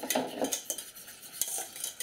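Spoon stirring fresh-squeezed lemon juice and a little salt into a glaze in a bowl, a close run of quick scraping clinks and swishes with no voices.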